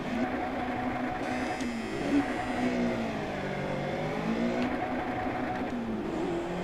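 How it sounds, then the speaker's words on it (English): Race car engine in the Project Cars video game, a whining motor revving up and shifting through gears with rising and falling pitch, moderately loud and continuous. "I am driving with the manual transmission and screwed up that start"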